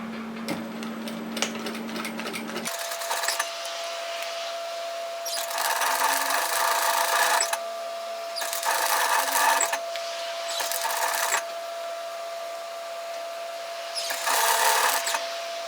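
A sewing machine stitches a seam on a reusable produce bag, with four or five close, whirring bursts of a few seconds each, separated by short pauses and a steady background hum.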